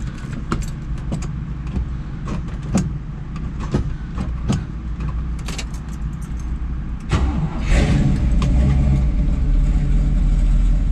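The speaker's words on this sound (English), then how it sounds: "We'll go ahead and get it started so you can listen to it. Hear that 396." A 1969 Camaro SS 396 with its big-block 396 V8: a series of light clicks and key rattles, then the engine cranks and catches, settling into a loud, steady idle rumble close by with no talk.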